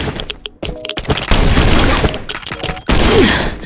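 Gunfire in the survival shooter Last Island Survival: loud, rapid bursts of automatic shots with booming impacts, broken by a couple of short pauses between volleys.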